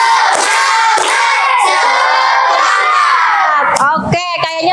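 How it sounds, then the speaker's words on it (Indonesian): A classroom of children claps the rhythmic tepuk semangat ice-breaker with a teacher, their loud voices chanting together and clapping in bursts that end in a quick run of sharp claps. "Kita ice breaking dulu. Tepuk semangat."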